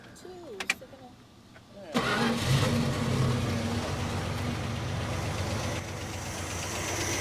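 A Plymouth Barracuda V8, one valve cover still off, cranks and catches with a sudden roar, then settles into a steady, rough idle. People talk over the engine at the start.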